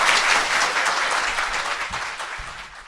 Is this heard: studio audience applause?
yes